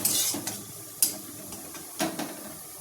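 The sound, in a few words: frying onions in a pan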